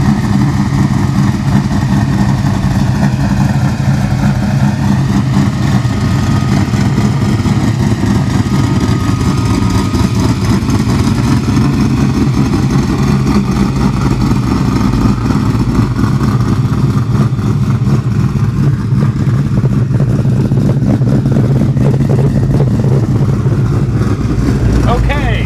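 A 1967 Mustang resto-mod with a supercharged Coyote V8 and big Baer brakes rumbles loudly and steadily, a deep constant engine drone with slight rises in revs, under people talking.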